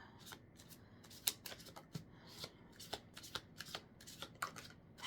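Tarot cards being shuffled at close range, a steady run of crisp riffling flicks and soft slaps repeating through the whole stretch with no talking.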